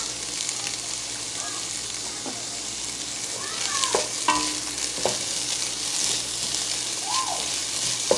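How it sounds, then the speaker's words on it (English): Cauliflower rice fries plain, without spices, in a pan, giving a continuous close sizzle with light stirring scrapes and a few faint squeaks and clinks. "So fry it without the spices first"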